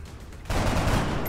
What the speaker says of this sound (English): Let's shoot that commander.